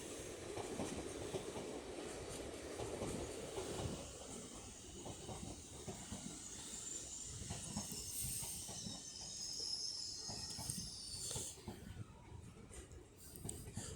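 Highland Chief passenger train at York station, a heavy rumble with rhythmic wheel clatter and brake hiss as it moves along the platform, steady and fairly close.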